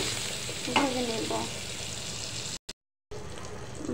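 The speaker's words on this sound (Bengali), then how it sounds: "মাছটা উল্টো পাল্টা করে সুন্দর করে ভেজে নেব।" Fish pieces frying and being turned in hot oil make a steady, loud sizzle with a brief scrape of stirring. The sound cuts out for a moment, then the sizzling returns.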